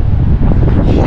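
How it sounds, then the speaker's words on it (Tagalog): Strong wind on a drizzly day with rough seas in Kuwait roars steadily across the microphone, a loud continuous rumble with gusty buffeting and no voices. "Ayan, lakas talaga ng hangin"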